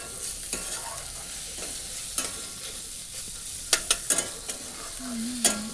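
Bitter gourd with masala, salt, lemon and crushed roasted peanuts fries in a pan under a soft continuous sizzle, broken by several sharp scraping knocks of a spatula near the end.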